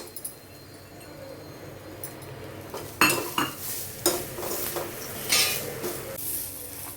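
A spatula stirs and scrapes a pan of dry-roasting spices, coconut flakes and dried red chillies, with intermittent metallic clinks and soft sizzling. The stirring grows busier partway through and carries on alone with no talk.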